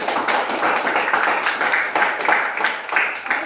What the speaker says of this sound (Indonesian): Kasih tepuk tangan buat 4 orang.